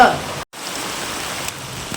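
Heavy rain pours down in a dense, steady hiss that stays loud throughout, broken only by a brief cut near the start.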